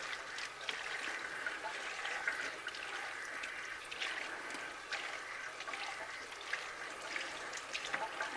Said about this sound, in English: So we're just going to give these a little rinse.